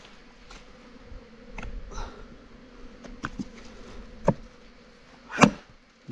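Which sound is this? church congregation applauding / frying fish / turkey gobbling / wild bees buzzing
wild bees buzzing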